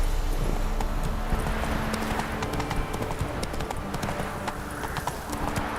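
Roach, the horse in The Witcher 3: Wild Hunt, trots along with a steady, close clip-clop of hooves. The hoofbeats run dense and even throughout, set against a continuous wash of outdoor game ambience.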